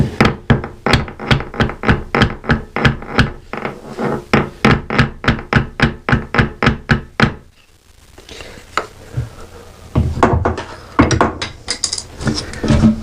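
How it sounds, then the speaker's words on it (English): A hammer taps rapidly and evenly on a small block of wood to level a rocking toilet, a run of sharp knocks, then pauses before a few scraping, shuffling noises follow nearby. "And then we're going to take a little piece of wood and our hammer."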